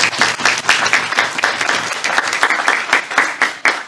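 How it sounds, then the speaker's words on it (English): An audience applauding at a county board of supervisors candidate forum, dense steady clapping from many hands with brief swells, loud and close throughout. "Give her a round of applause for being our good moderator."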